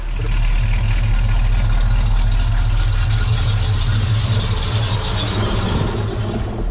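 A 1971 Mustang engine that has been running rough idles steadily and loudly up close, a deep, even rumble that holds for several seconds with nothing else heard.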